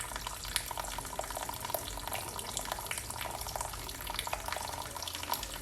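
Tap water runs steadily from a faucet during handwashing, a continuous close hiss with faint splashes and drips, no voices.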